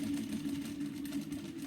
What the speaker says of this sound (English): You can see I'm sewing straight over my pins.